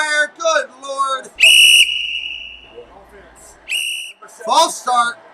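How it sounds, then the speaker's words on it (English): Referee whistles blown after a false start at an NFL game between the Denver Broncos and Kansas City Chiefs: two loud, sharp blasts a couple of seconds apart, mixed with broadcast commentary and crowd noise. "Whistles are down everywhere."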